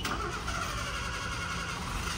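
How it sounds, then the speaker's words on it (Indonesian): A 1993 Suzuki Katana GX engine starts and runs, giving a steady, even mechanical drone at close range with no talk over it. "Nih, saya hidupin mesinnya juga nih"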